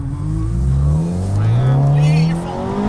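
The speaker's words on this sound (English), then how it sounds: "Here comes this car" A car engine rises and approaches on a snowy mountain road near Mt. Laguna, its note climbing steadily and growing louder and closer, with tire and road noise underneath and no talking.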